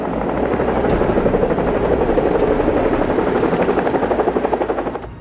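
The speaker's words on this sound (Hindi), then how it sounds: "दोनों हेलीकॉप्टर एक बहुत बड़ी और शानदार हवेली के सामने मैदान में एक साथ उतरते हैं।" Two helicopters land together on a field in front of a large mansion. The rotor thump is loud, close and rapid, with the engine whine steady throughout.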